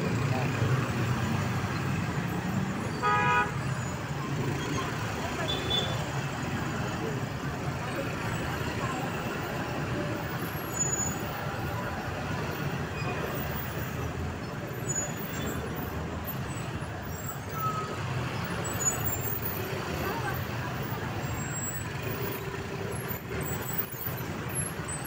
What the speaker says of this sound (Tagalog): masyado po traffic dito talaga